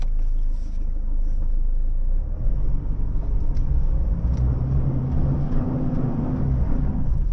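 A 2025 Toyota Prado 250 GX crawls off-road in low range with its rear wheels spinning, giving a steady loud low engine and drivetrain rumble with wind buffeting throughout and no talk.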